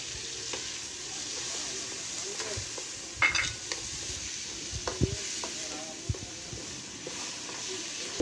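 Ginger, garlic and tomatoes fry in a pan with a steady hiss and sizzle, broken by the occasional clink and scrape of a spoon stirring, close and alone.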